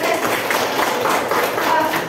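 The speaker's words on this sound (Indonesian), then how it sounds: "Tepuk tangan buat Denis." A classroom of students applauding a classmate, a dense, steady wash of clapping that carries on evenly throughout, close and loud.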